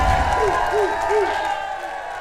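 A crowd applauds in front of the Mid-American Energy Stage at the Iowa State Fair during a live TV news broadcast, a steady wash of clapping and crowd noise that fills the whole stretch.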